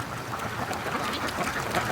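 Free-range ducks quack in a dense, continuous outdoor chorus, a steady overlapping clamour from a flock nearby.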